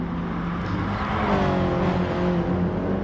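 Audi race cars in a racing video game roar past together, a steady, loud engine drone with rising and falling pitch and no voices.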